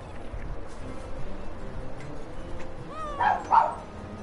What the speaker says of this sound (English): Why are dogs barking in my background?